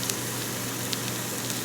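Potato skins frying on a stovetop at medium heat give off a continuous, even sizzling hiss with faint crackles, close by and steady for a moment, no speech.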